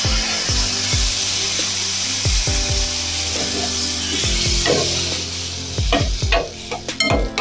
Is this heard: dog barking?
no